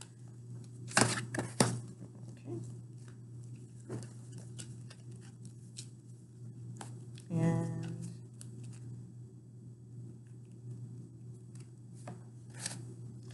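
Tarot advice cards being shuffled and pulled for a reading, heard as faint papery riffles and taps, a couple of brief sharper flicks early on and a louder flutter midway, over a steady low hum.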